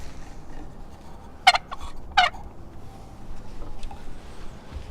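A wooden turkey box call worked with a striker gives two short, sharp scratchy yelps about a second apart, close and clear over a quiet background.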